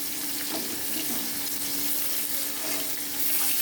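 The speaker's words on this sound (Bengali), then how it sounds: "জিরে তেজপাতা ফোড়ন, আলু, আলুগুলো ভাজা হয়ে গেছে, তুলে নিচ্ছি। পেঁয়াজ দিয়ে দিলাম," Sliced onions hit hot oil in a pan already seasoned with cumin and bay leaf after potatoes were fried, giving a continuous, even sizzling hiss close by with no voices.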